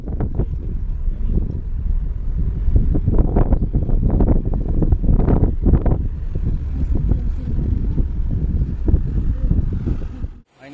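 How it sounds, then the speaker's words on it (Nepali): Cold wind gusts hard against the microphone on a mountain road in Nepal near a hot spring, a loud buffeting roar that swells and surges unevenly for about ten seconds before abruptly cutting off. "चिसो चिसो हावा चल्यो, चिसो चिसो मौसम हो।"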